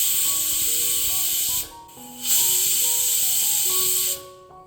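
A pressure cooker cooking jackfruit seeds lets out a loud, sustained hissing whistle, briefly dipping partway through before surging again and cutting off near the end, with a higher tone shifting over a low rumble.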